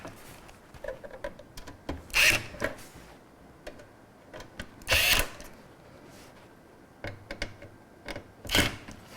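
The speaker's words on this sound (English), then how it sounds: "Now I'm going to make sure all the screws are tightened down." A magnetic electric screwdriver tightens computer case screws in short whirring bursts, a few brief spurts separated by pauses with light clicks and handling noises, quiet and close.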